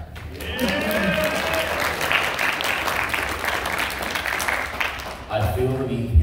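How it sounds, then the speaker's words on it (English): A convention crowd at a pro wrestling fan panel breaks into sustained applause, dense and steady for several seconds before it cuts off and talk resumes. "Round of applause for that."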